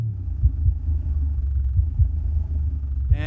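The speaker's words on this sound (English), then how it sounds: "Sub is sounding good." A Sundown Audio SA-12 V2 car subwoofer pumps deep, loud bass, a continuous low rumble with heavy thumping pulses recurring every half second or so, and no voices.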